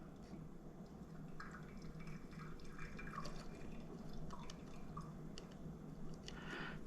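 Coffee drips steadily from a brewer with a stopper, small irregular droplets landing against a constant low background hum, close and quiet with no talking.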